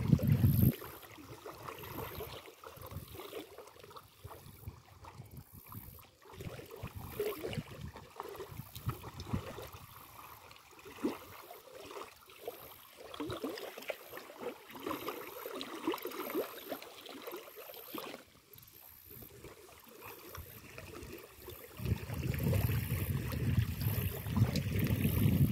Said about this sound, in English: enjoy the ripple, the sound of the water